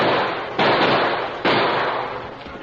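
Gunshots crack out in a radio drama gunfight set among boulders, two loud close blasts about a second apart, each trailing into a long rumbling decay, with no voices over them.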